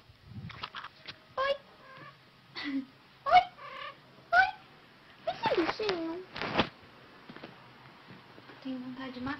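Pet cats meow repeatedly indoors, with short plaintive cries and whines spaced through the stretch, and a person talking faintly between some of the calls.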